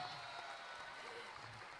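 A crowd at the Three Kings parade in Vigo gives a brief burst of applause, the clapping faint and distant as a dense wash of noise.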